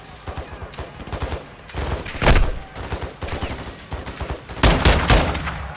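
Sustained gunfire in a Call of Duty: Modern Warfare II campaign battle at Al Mazrah, loud rapid bursts and repeated shots layered over each other, with shouted combat callouts mixed in.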